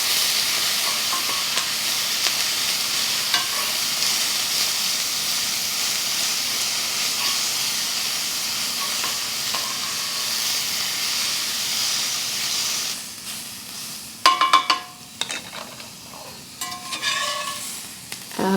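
Steak bites and mushrooms stir-frying in a pan during a hotel room meal, a loud steady hissing sizzle that drops away near the end into a few clattering stirs and scrapes.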